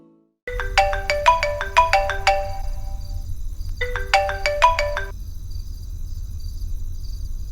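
A telephone ringing after a number is dialed in a Hindi TV serial scene: two bursts of a bright, repeating electronic ringtone melody, the second shorter, over a low steady hum.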